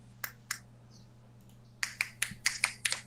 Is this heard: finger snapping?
yes